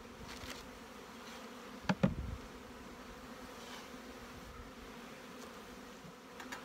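Faint, steady insect buzzing of honey bees at a hive being split, continuous and low in level, with a couple of brief bumps or knocks partway through.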